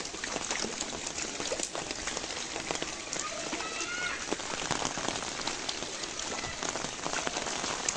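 Heavy rain pours down in a village, a dense steady patter and splatter of drops on the surfaces nearby that keeps on without a break.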